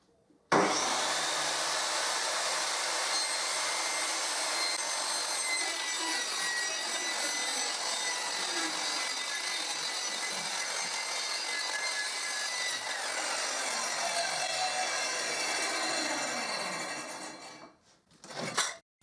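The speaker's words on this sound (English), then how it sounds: "I cut the excess so that the jig fits perfect with my circular saw." A circular saw rips steadily through wood for a rip fence jig, one continuous loud whining cut lasting about seventeen seconds before the blade spins down and stops.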